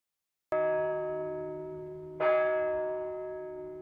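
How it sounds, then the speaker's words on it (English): Bells ringing near a small seaside building: two clear, resonant bell strikes about two seconds apart, each with a long, slowly fading ring, alone in silence. "Suddenly, some bells began to ring."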